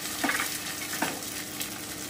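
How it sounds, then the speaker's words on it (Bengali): Cumin paste, ginger paste and ground coriander sizzle quietly in a pan for a cabbage kofta curry, with a soft steady fry broken by two brief scraping stirs. "আমি একটুখানি নেড়ে নিচ্ছি ভালো করে। আমি একটু ভেজে নিলাম।"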